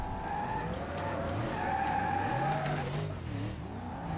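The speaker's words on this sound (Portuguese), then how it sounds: "Eu tentei fazer um drift ali, mas não deu muito certo" Car in BeamNG.drive drifting and skidding with a working headlight: sustained tire squeal and skid noise over a droning engine for several seconds, fairly loud and continuous.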